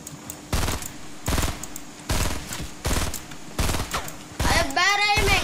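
Gunfire in Fortnite, a series of loud, evenly spaced bursts of rapid shots separated by short pauses, with a voice briefly heard near the end.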